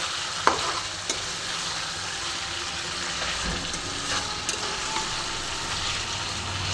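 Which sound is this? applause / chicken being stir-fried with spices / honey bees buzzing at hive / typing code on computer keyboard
chicken being stir-fried with spices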